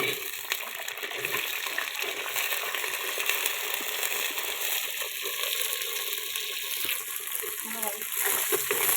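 Small onions sauté in a hot pan with a constant close sizzle and hiss, and faint scraping sounds come and go underneath.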